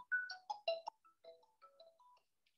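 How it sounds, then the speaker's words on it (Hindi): A phone ringtone plays a short melodic tune of bright electronic notes, close and clear, fading off after a couple of seconds with no talking over it. "अच्छा मैं एक मिनट एक फोन उठा लूँ"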